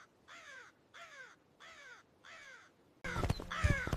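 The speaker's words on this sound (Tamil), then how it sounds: "கருப்பு காகம் ஒன்று பறந்து வருகின்றது." A black crow caws four times in an even rhythm, each harsh call separated by a short pause, then a louder, busier stretch of cawing with other sounds follows.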